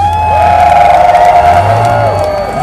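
A loud crowd cheers and whoops for Gas Monkey Garage at a Roadkill Nights drag racing event, with sustained shouting and a deep engine-like drone underneath.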